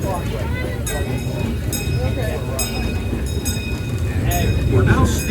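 A Disneyland Railroad train running on its tracks, with rumbling wheels, rhythmic clacks and metallic squeals under continuous speech from a narration announcement.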